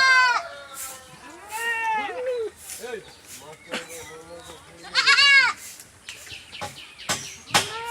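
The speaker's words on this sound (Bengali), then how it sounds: "ছাগলগুলো খুব সুন্দর করে খাচ্ছে" Village goats bleat repeatedly while feeding, with high wavering calls close by, some sharp and cat-like, separated by short gaps and occasional bursts of noise.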